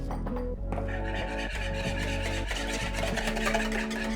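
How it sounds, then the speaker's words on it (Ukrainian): A spoon scrapes and rubs around a bowl, stirring kefir into onion fritter batter in a steady rhythm, close and continuous, with no talking. "додаємо кефір і перемішуємо це все"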